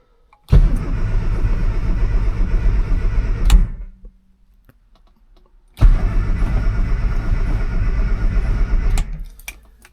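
A Mini Clubman GT on choke cranks and fires in two loud, close starting attempts, each a roughly three-second burst of churning engine noise separated by a brief near-silent gap.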